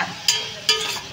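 Sliced onions frying in a pan for a ridge gourd curry, a soft steady sizzle with two sharp stirring scrapes, close and fairly quiet, no talking.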